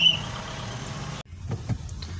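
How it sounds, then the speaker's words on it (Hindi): Heavy road traffic on the way to Sohra, Meghalaya: a vehicle engine drones from inside the cabin, cutting off abruptly midway, then resuming with a few faint thumps and rumbles. "लेकिन बहुत ट्रैफिक है यहाँ पे।"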